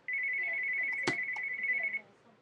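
A phone rings with an incoming call, a steady electronic ringtone tone held for about two seconds, loud and close, with a brief sharp knock partway through.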